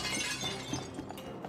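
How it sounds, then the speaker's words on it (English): Glass shattering in the co-op game It Takes Two, a fairly quiet spray of breaking and tinkling shards that trails off over a second or so. "Break the glass back."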